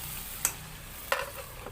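Chicken meat fries in a pan with a little water, giving a soft steady sizzle broken by three sharp scraping stirs of a utensil against the pan.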